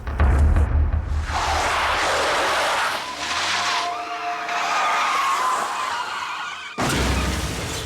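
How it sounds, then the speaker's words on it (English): Car skidding off a bridge and plunging toward a river, heard as loud, sustained tire squeal and engine roar with a brief drop in sound before a renewed burst at the end. "The Eggleston's car skidded off the bridge and plunged into the river below"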